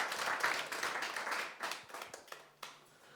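Audience applause at a live show in Sainte-Fortunade, Corrèze, with dense hand clapping that is loud at the start and tapers in waves, then fades and returns in a brief final burst.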